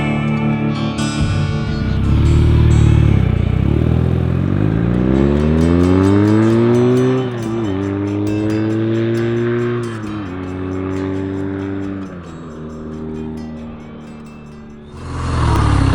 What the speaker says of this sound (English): time I think to get on this bike and take in some moving air